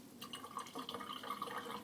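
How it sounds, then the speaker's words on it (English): Cooked food for a parrot being drained of excess water through a sieve, faint continuous trickling and dripping close by, with no talking. "Now put it through a sieve,"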